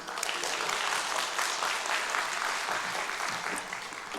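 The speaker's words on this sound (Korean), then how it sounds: "우리 큰 박수로 환영하도록 하겠습니다." A church congregation applauds warmly during a Korean worship service, sustained dense clapping that fills the room evenly for about four seconds, with no voices on top.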